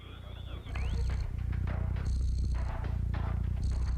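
A cat purrs in the Stray video game trailer, a low, continuous rumbling purr close up, layered with bright synthetic tones and game music.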